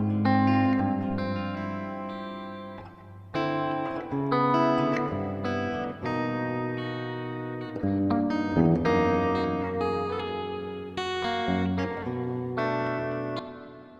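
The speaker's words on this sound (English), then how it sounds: "So now we should have some reverb action going" An electric guitar played through the reverb effect on a ZOIA pedal, picking chords and single notes that ring out with a long, wet decay; no voices.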